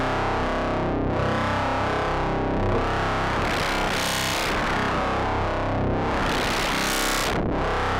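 A rich, dense synth patch built with FM8 hybrid synthesis swells and sweeps through slow, repeating filter-like surges, thick and distorted, playing alone without any voice.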